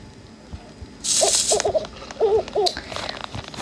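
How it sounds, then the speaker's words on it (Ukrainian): An owl hoots several times in short paired calls over a hissing background, fairly close and clear, with faint ambient noise between hoots, in a forest survival video game. "Ой, сова, притихни."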